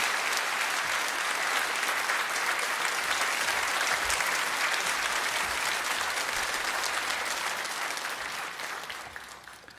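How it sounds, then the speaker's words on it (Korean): A church congregation bursts into warm, sustained applause welcoming a guest pastor at an evening revival service, a dense wash of clapping that fades near the end. "큰 박수로 맞아주시면 감사하겠습니다"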